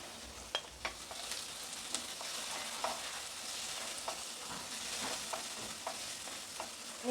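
Onions fried soft with tomatoes just added, stirred in a pan for moong dal chilla, giving a steady close sizzle with scattered scraping clicks of the spoon throughout.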